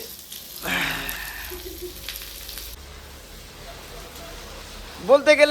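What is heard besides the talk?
onions frying in oil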